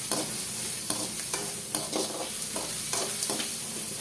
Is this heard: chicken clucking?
no